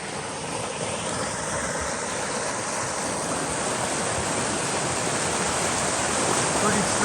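Strong stream current rushes beneath a trail bridge on the Ouachita Trail, a loud, steady, broadband roar of moving water that stays even from start to finish.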